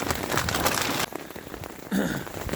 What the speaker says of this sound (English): it is still pouring with rain